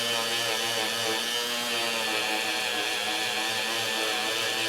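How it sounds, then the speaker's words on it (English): A small variable-speed Dremel rotary tool whines continuously at a steady pitch while buffing a faux lava rock bracelet bead, loud and close, with no talking. "I'm going to turn on my Dremel"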